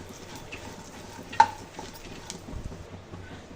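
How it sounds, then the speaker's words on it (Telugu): Dry fruits and seeds roast in ghee in a pan, giving a soft, low frying crackle with one sharp utensil tap early on and faint stirring scrapes, steady and close, with no talk. "దీన్ని కూడా క్రిస్పీగా అయ్యేంత వరకు రోస్ట్ చేసుకుందామండి"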